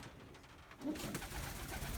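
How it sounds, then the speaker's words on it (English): A white ringneck dove from a breeding pair, irritated near its nest, gives a single short, low coo against steady hissing background noise. "this nest was for a pair of white ringneck doves, which I do have, and will be breeding. But it's kind of mad at me."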